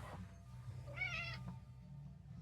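An indoor cat lets out a single clear meow in the middle of a quiet room, faint and close, with a low steady hum underneath.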